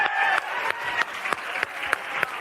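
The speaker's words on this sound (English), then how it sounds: "Keep clapping." An audience claps steadily as a speaker comes onto the stage at a right-wing event, a moderately loud, continuous patter with a few sharper claps standing out at regular intervals.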